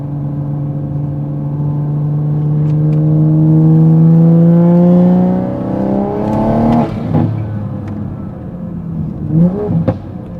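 A Toyota MK5 Supra's engine drones loud and steady along a winding mountain road, its pitch rising and falling with throttle, then a couple of quick revving blips near the end.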